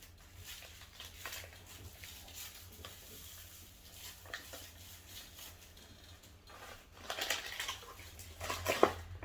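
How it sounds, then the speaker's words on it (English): A whisk stirs cherry Jello gelatin powder into a cup of boiling water, producing quiet swishing and light clinks against the bowl, getting louder and more scraping toward the end. "We are going to whisk that up until all of the gelatin is dissolved"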